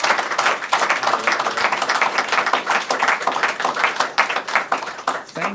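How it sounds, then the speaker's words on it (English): An audience at a recovery meeting claps steadily and loudly for several seconds, a dense continuous patter of many hands. "I like the applause"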